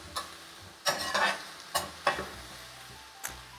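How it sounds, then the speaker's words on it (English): Mushrooms cooking in a pan, heard as about five distinct scraping stir strokes over a soft, quiet sizzle, each stroke a short burst with pauses between. "So you just want to cook them until all of that liquid is reabsorbed back up into the mushrooms and the mushrooms are well cooked."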